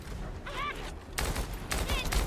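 Gunfire in The First Descendant, a co-op shooter-looter game: two bursts of rapid shots about a second apart, loud and close, with short electronic chirps and game effects between them.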